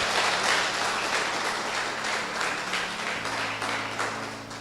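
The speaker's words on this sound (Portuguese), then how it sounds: "Agora você pode aplaudir o Senhor." Applause from a church congregation during worship, a dense steady wash of many hands clapping, fairly loud and sustained with a low hum underneath, no talk over it.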